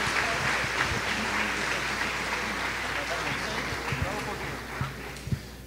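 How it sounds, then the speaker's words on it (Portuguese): Church congregation applauding during a worship service, a dense continuous wash of clapping that fills the room at steady volume, with voices blended underneath. "Aplauda o Senhor."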